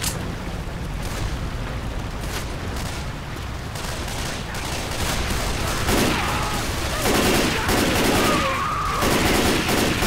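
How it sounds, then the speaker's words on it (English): Rapid, dense gunfire in Left 4 Dead 2, sustained bursts filling the whole stretch at close range, with players' voices talking over it in the later part. "I keep shooting Ali"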